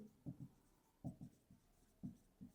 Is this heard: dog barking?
no